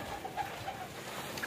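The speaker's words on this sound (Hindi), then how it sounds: "सारे कबूतर जो है ना ये देखिए नीचे आना शुरू हो गए हैं।" Pigeons flock down to peck at scattered grain. Soft, faint cooing murmurs on and off over a low steady background, with no voices.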